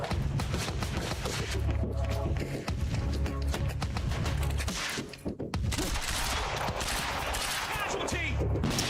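Rapid bursts of turret gunfire in the Quantum Break video game, dense and sustained across the whole stretch with a brief lull midway, loud and close over busy game ambience, with a player's voice faintly underneath.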